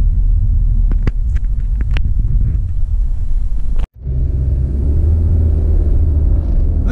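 A car drives along the busy M-29 highway near New Baltimore, Michigan, its steady road rumble and tire noise heard from inside with a few brief knocks and one short dropout.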